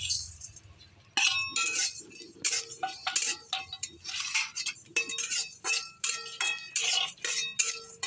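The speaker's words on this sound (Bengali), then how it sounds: "এই যে শুকনো খোলায় আমি দারচিনি, লবঙ্গ, এলাচ, গোলমরিচ, জিরে, ধনে, মেথি পাতা শুকনো খোলায় ভেজে নেব" Whole spices, namely cinnamon, cloves, cardamom, pepper, cumin and coriander, are dry-roasted in a pan and stirred with a metal utensil, making repeated close, bright clinks and scrapes in an irregular rhythm.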